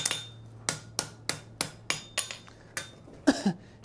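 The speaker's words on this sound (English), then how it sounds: "all that peening there that I'm doing is just more or less to take and help disguise welds" Hammer peening a forge weld on steel, a series of about ten sharp metallic strikes at a steady, moderately quick pace, close and fairly loud, with a low hum underneath.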